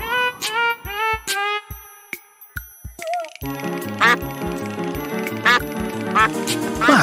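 The cartoon duck from the animated children's show Pocoyo quacks repeatedly in short bursts, then over bright music and effects, loud and close.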